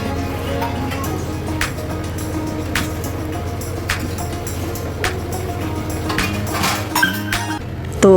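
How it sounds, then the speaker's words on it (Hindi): Metal kitchen utensils and pots clink sharply as they are set down outside a basket to drain, several scattered bright clanks over a steady background hum. "जो बचे हुए बर्तन थे मैंने उनको नीचे रख दिए थे टोकरी के बाहर ही"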